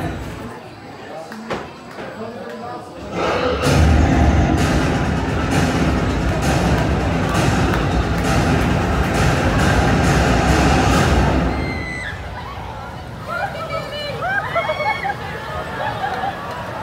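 A roller coaster train on Untamed at Walibi Holland rides past with a loud, sustained roaring rumble lasting about eight seconds, then fades into crowd chatter and scattered voices nearby.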